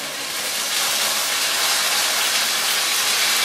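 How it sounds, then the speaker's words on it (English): Loud, steady sizzling hiss as tomato sauce hits hot olive oil in a pan, rising slightly and then holding constant with no voices. "It might start to sizzle a little bit"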